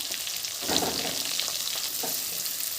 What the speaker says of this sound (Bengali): পেঁয়াজ কাঁচা লঙ্কা সমস্ত উপকরণগুলো একটু হালকা করে ভেজে নেব